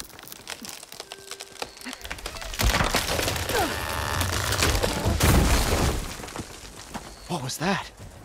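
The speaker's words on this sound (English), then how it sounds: "Ah, that old tree finally decided to fall." Old tree cracking, splintering and crashing down in Horizon Forbidden West, a loud sustained rush of breaking wood and debris in the middle, with game music and ambience around it and faint vocal sounds near the end.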